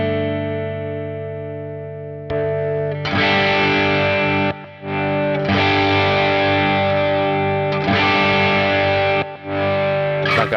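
Electric guitar played through a Warm Audio Bluesbreaker-clone overdrive pedal with a voltage increaser engaged, sounding loud, sustained, mildly distorted chords that ring out in several strummed bursts with brief gaps, no talking.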